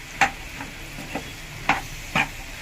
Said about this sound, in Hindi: इसी तरह कड़छी से हल्का हल्का मैश भी करती जाऊंगी साथ साथ आलूओं को